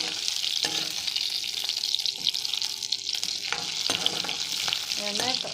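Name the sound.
sautéing shallots and dried red chilies in a pan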